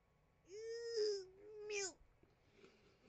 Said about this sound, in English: cats can be pretty damn loud